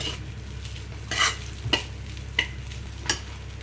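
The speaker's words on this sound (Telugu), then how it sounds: "ఇప్పి వేసి ఒకసారి మళ్ళీ కలపండి" Scraping stirs of egg noodles in a pan, four or five distinct strokes spaced about half a second apart, over a low steady background hum.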